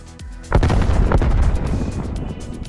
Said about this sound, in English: Enemy grenade.